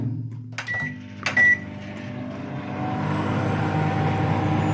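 A microwave oven hums steadily while warming a bowl of sandy water, its low drone continuous and close, with a couple of brief clicks and beeps early on.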